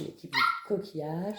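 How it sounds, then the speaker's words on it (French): An eight-week-old puppy named Merlin gives a few short, high yipping barks close by, mixed with someone talking in French. "Ah, c'est mon chien"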